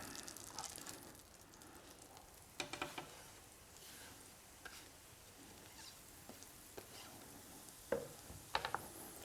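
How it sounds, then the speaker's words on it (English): Soft, steady sizzling of mushrooms frying in hot butter in a pan, with occasional light crackles and a few clicks of a utensil. "we're going to fry these mushrooms"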